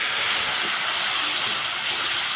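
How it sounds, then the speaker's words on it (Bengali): Ginger paste frying in a pan for a Bengali dudh potol curry gives a steady, loud hiss of sizzling oil that runs unbroken throughout, with no voices. "আদা বাটাটাকে একটু ভেজে নেবো আদা বাটাটা একটু ভাজা ভাজা হয়ে গেলে দিয়ে দেব ধনে আর জিরে বাটা"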